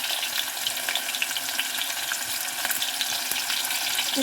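Small shallots and curry leaves sauté in a pan for a bean curry, giving a dense, continuous hiss and crackle close up, with no voices over it.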